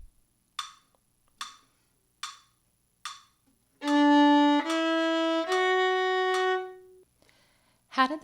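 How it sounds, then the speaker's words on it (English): Four evenly spaced, crisp clicks count off a tempo, followed by a few sustained instrument notes. "You'll hear 4 clicks to set the tempo."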